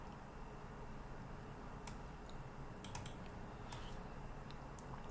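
Sparse, faint clicks of typing on a computer keyboard come in short clusters over a low room hum.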